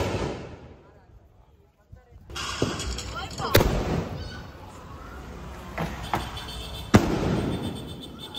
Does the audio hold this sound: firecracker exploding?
yes